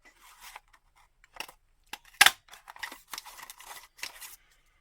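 Scissors snipping paper into small boxes for a Valentine bullet journal spread, a series of quiet crisp cuts with one sharper snip in the middle, close and alone.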